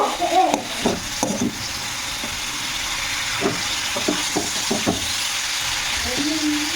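Onions softening with a pinch of salt in a pan for a Bihari-style chicken curry give off a steady broadband sizzle, broken by a few clattering stirs and scrapes near the start and again midway.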